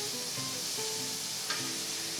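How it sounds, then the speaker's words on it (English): Garlic sautés steadily in a pan with a soft, continuous sizzle, a faint scrape of stirring partway through, no voices over it. "Let that saute in there."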